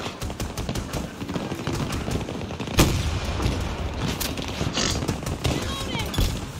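Rapid gunfire aimed at an enemy vehicle in Battlefield 2042, dense bursts of shots with one sharp louder crack midway, under steady battle noise and a voice talking.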